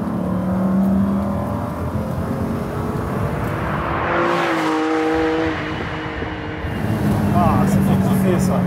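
A Lamborghini Diablo engine revs with a raspy mechanical growl, rising and falling in pitch across several pulls, while a person talks over it.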